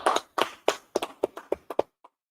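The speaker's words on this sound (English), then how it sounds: "All right, clap it up." A small group at a biblical law class in Fayetteville, North Carolina, claps about nine distinct, separated hand claps in an uneven rhythm, followed by one faint final clap and then silence.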